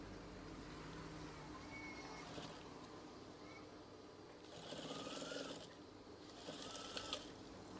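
A sewing machine stitches the seam of a swag curtain, a steady low mechanical whir running throughout with two louder bursts of faster stitching near the end.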